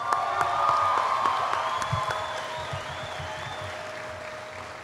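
Applause ripples through a crowd at a high school graduation ceremony, sustained clapping heard from a distance that slowly fades, with a voice on a PA system over it.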